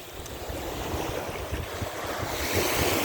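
Surf washing onto Hrybivka beach on the Black Sea coast, a steady broadband wash of breaking waves with wind buffeting the microphone, swelling slightly louder toward the end, no voices.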